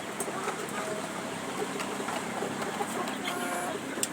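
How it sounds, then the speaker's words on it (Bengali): Chickens at night in a coop holding tiger-breed and Egyptian farm hens together, giving soft scattered clucks over a steady low background hum, fairly faint and continuous. "রাতে দেখেন মুরগিগুলোর কি অবস্থা।"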